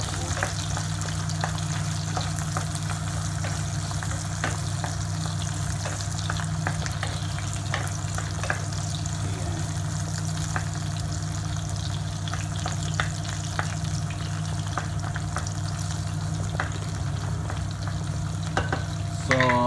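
Sliced chili and string beans fry loudly in a pan for adobo, a steady, dense sizzle throughout with occasional stirring scrapes and a steady low hum underneath.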